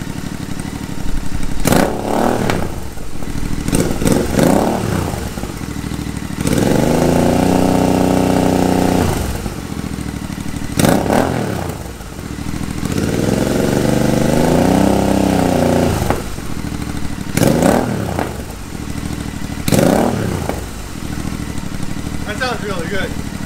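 Royal Enfield Interceptor 650 with slash pipe exhausts, revved repeatedly to around 4,000–5,000 RPM: several loud, swelling bursts of engine roar rise and fall back to a rumbling idle between them, close to the listener.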